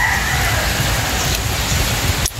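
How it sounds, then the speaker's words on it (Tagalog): Heavy rain pouring down in a steady, dense hiss with a faint low rumble beneath, continuous and close, ending with a brief interruption. "Malakas ulan."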